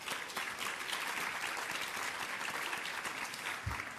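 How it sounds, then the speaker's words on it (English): Large conference crowd of about 650 people applauding, a steady wash of many hands clapping at once for around four seconds, heard from within the audience. "Let's give ourselves a round of applause."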